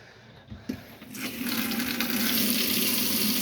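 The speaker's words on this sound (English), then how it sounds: "Plenty of pressure in the vanity sink and hot water as well." Water gushes from the tap of a caravan vanity sink, starting after a brief click and settling into a steady, strong hiss of flowing water.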